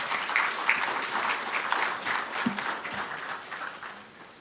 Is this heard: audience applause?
yes